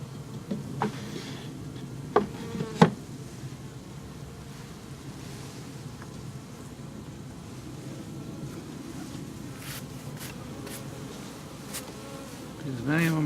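Honeybees hum around a backyard beehive in a low, steady drone, close and moderately loud, broken by a few sharp knocks and rustles near the start and at the end, with no speech.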